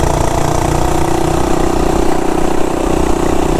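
A small Amazon mini bike engine with an opened-up governor spring and modified exhaust runs at full throttle, a loud, close, continuous buzzing roar that holds steady throughout.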